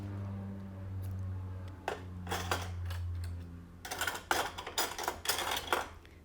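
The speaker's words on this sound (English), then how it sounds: "And then you can cut the yarn." Scissors snip through knitting yarn during a bind-off, giving several sharp, quiet metallic clicks and cuts in a small cluster against a faint background hum.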